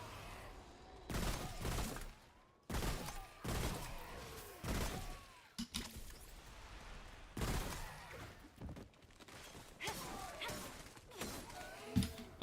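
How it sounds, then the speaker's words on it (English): Burst rifle gunfire in the modded video game Remnant, heard as repeated short clusters of rapid shots spread across the clip, with crashes and impacts mixed in at moderate loudness. "It's the only burst rifle in the game."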